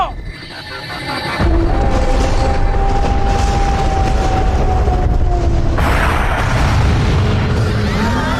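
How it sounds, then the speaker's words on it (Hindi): A deep booming blast from an animated Doraemon movie cannon kicks in after a quiet start and rolls on as a loud, sustained rumble with a second surge near the end. "देखा हमारी तेज आवाज वाली तोप की ताकत को।"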